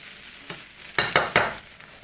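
Steak, potatoes and onions frying together for a steak hash, a steady background sizzle broken by three loud scraping stirs in quick succession near the middle, with no voices.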